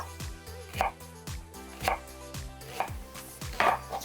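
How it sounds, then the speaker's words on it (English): A knife thinly slices a vegetable into half-moon pieces on a cutting board for vegetable dumpling soup, giving about five crisp, evenly spaced chops close up with a steady low hum underneath. "So now I'm gonna thinly slice in half moon shapes."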